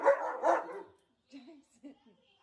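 A dog gives two loud, drawn-out barks up close, then short quieter yips and whimpers that trail off into silence.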